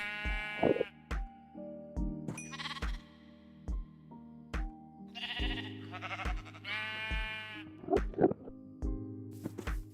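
Repeated sheep bleats in Minecraft, several in a row over about ten seconds, layered with rhythmic electronic music and thumping beats in the background.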